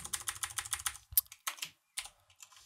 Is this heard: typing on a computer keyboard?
yes